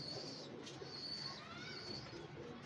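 Pigeons kept by their owner coo softly, faint and low beneath a constant background hiss, with a few thin high chirps and rustles scattered through.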